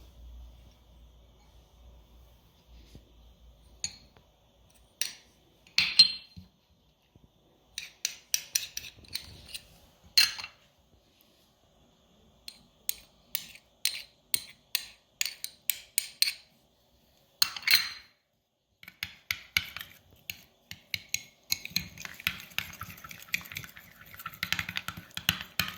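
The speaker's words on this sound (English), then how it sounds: "So I'm going to just combine all of this together, mix it together" Shrimp chip ingredients, mustard among them, mixed together in a bowl: irregular clattering and scraping taps that come in scattered bursts and grow busier toward the end, with no talking.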